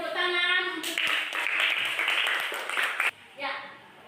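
Children and a teacher in a classroom clap together briefly for a few seconds, a dense patter of hands that stops abruptly, with a voice heard before and after.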